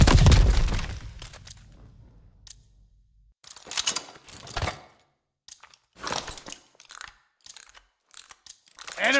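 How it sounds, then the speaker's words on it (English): A bomb is defused in a Call of Duty: Vanguard multiplayer match: after an initial loud burst, short mechanical ratcheting clicks and rattles come in spaced bursts, close and fairly quiet. "Enemy took apart our bomb."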